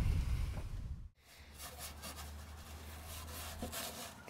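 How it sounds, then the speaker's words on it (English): A drill fitted with a small sanding disc scrubs leftover glue off a Toyota Starlet's interior plastic trim piece, giving a steady close rasping grind that cuts out briefly after a second, then resumes and runs evenly. "just go through with a drill with a small sanding disc, just clean up the remains of the glue and what's left"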